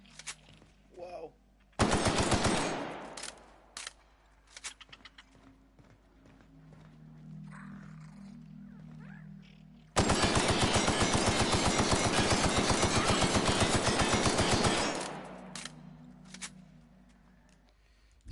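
Automatic gunfire in the video game The Outer Worlds rattles in two long continuous bursts of several seconds each, loud and close, with quieter game sounds in the gaps between them.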